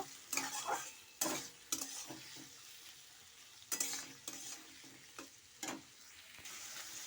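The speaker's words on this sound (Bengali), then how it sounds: "এবার এগুলো সব সুন্দর করে আস্তে আস্তে করে অনেকক্ষণ ধরে ভেজে নেব" Tomatoes and dry chillies fry in a pan for a butter egg curry, giving a low sizzle broken by several loud, close bursts of spatula stirring and scraping at irregular intervals. The whole sound is fairly quiet and has no speech.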